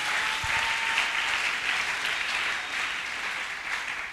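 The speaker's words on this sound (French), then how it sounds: "Est-ce qu'on peut acclamer le Seigneur?" A church congregation breaks into steady, sustained applause, a dense wash of many hands clapping together at moderate volume for several seconds without pause.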